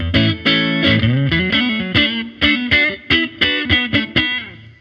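PRS Swamp Ash Special electric guitar played loud and alone without a distortion pedal, in short rhythmic chord stabs, the tone slightly gritty and crunchy, with brief gaps between phrases.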